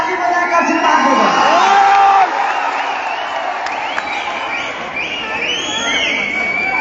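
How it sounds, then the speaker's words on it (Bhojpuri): An award-show audience in Kolkata cheers and claps loudly, a dense wash of applause and shouting crowd noise that carries on throughout. "एगो हाला मार के ताली बजा के आशीर्वाद देगा"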